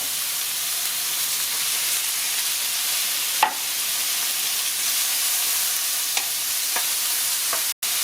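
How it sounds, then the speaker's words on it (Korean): Whelks sizzle in a hot frying pan with chili peppers, a steady loud hiss of frying broken by a few sharp clicks and pops, close and without talk. "이제 골뱅이 넣습니다"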